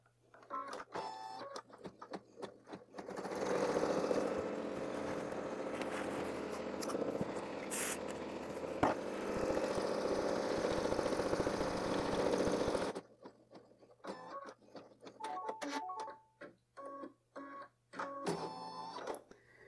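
An embroidery machine stitches a placement line onto a towel topper, a fast, even mechanical whir that runs for about nine seconds between stretches of quieter clicks and shuffling handling sounds.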